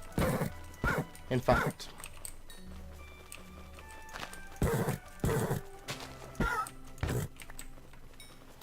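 Horses in Minecraft clip-clop and snort in short bursts, close and clear, over quiet game ambience and faint tones; someone talks briefly.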